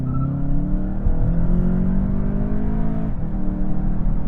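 A 2025 VW Jetta GLI accelerating hard from 0 to 60, its engine a loud, steady drone whose pitch climbs, dips briefly at a gear shift, then climbs again.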